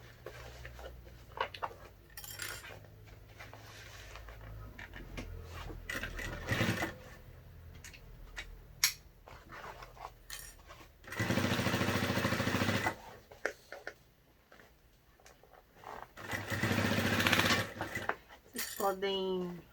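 A sewing machine stitches a fabric house-shaped bag closed with a new presser foot fitted, running in several bursts of rapid mechanical whirring separated by pauses with small clicks and handling sounds.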